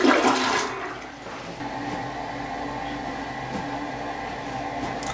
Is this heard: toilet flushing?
yes